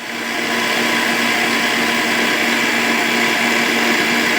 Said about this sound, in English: So I'm gonna put this in the mixer.